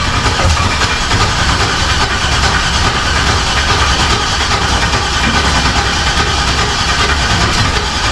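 Turbocharged Chevrolet Camaro engine running after its first start, a loud, steady, dense rumble that holds unchanged and alone for the whole stretch.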